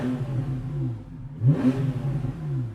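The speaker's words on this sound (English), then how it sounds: "I'm actually just going to switch on sports exhaust." A Porsche 911 Carrera S (991.1) revs with its sports exhaust switched on, a low engine note rising in a sharp blip midway and then settling back into a throaty idle, close by.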